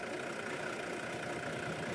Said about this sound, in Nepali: यो गाडीको पेट्रोल नभएको कि गाडी सुस्त हिँडेको म कुरै बुझिरहेको छैन